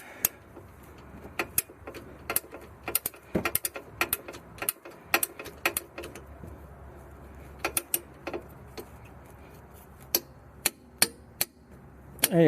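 A torque wrench tightens rear brake bolts on a Subaru Impreza or Crosstrek, with close, sharp ratcheting clicks in irregular bursts over a quiet background.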